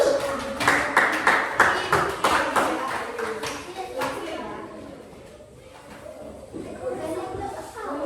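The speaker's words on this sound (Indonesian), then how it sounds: "berikan tepuk tangan untuk" Schoolchildren in a primary-school classroom burst into brisk, scattered applause that thins out after a few seconds, with children's voices chattering around it.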